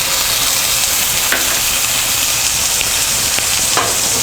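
Ground onion gravy sizzles and fries in oil in a pan for a drumstick and coconut curry, a loud, continuous close crackling hiss with occasional stirring clicks and no talking.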